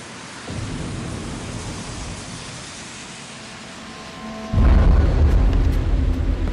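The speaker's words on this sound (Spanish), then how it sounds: "¿En serio tiene que llover ahora?" Heavy rain pours in the video game Garry's Mod as a dense steady hiss, then a loud deep rumble of thunder breaks in and rolls on to the end.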